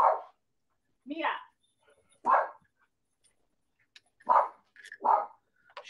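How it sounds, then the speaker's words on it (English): Small female dog yapping in short sharp bursts, about five separate barks spaced across a few seconds, close and loud against an otherwise quiet room. "She's a yapper. She's not even my dog, but Mia, enough."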